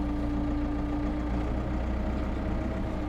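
A tractor engine running at a steady low idle-like drone as the machine begins to move, a faint, even hum with no speech.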